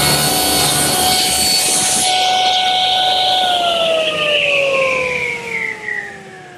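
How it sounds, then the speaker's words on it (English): A table saw with its blade tipped to 10 degrees cuts a raised panel in 5/8 inch strawboard, a loud, steady whine that then winds down in pitch as the blade coasts to a stop. "I've tipped my saw blade to 10 degrees, and I do the narrow ends of the panel first"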